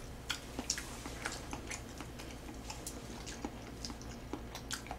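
Chewing on tteokbokki and gimbap during a mukbang: soft, irregular mouth clicks and wet smacks close to the mic, spread across the whole stretch over a low steady background hum.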